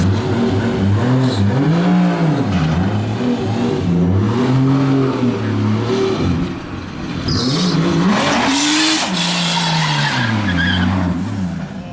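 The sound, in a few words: 2JZ-swapped Ford Mustang doing a burnout while towing a trailer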